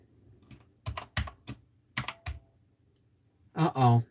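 Several sharp keystrokes on a computer keyboard come in an uneven cluster, close and crisp, before a voice speaks briefly at the end.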